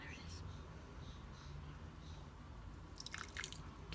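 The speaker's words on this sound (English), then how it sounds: "So let me put the water." Water is poured and dripped into a homemade three-ingredient facial peel mixture, soft wet trickling and small splashes close by, faint and partly under quiet speech, with a brighter cluster of drips near the end.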